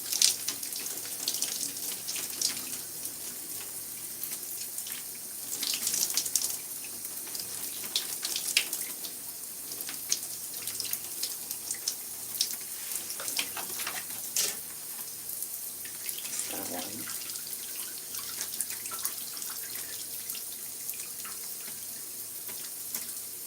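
Running water from a tap rinses conditioner out of hair, a steady hiss of flow with splashes and patters as the hair is worked under the stream. No talk is heard.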